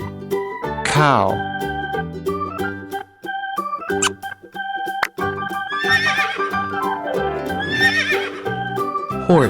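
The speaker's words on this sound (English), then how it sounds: "Horse." A horse gives a loud, descending whinny near the start, followed by softer neighing sounds later, all over continuous cheerful music in a farm-animal learning piece for young children.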